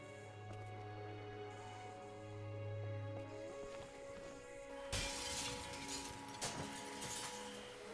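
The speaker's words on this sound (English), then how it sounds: "Not only the glass shattering, but also there's the static." Glass shatters from a brick thrown in The Walking Dead video game: one loud, sharp crash rings out over a steady game soundtrack and static hum, with a smaller clink following a moment later.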